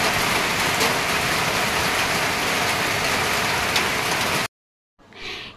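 Dense, steady rain pouring down, loud and close, cutting off abruptly into silence before a faint muffled sound returns.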